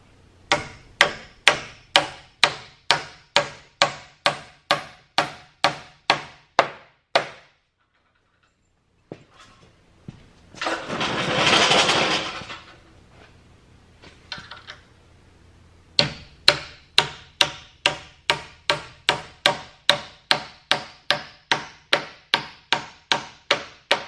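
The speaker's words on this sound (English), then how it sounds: "I'm gonna tighten those screws and then I'm gonna add reinforcement nails" A hammer drives reinforcement nails into a pocket door frame in two long runs of sharp, evenly spaced blows, loud and close. A burst of rushing noise fills the pause between the runs.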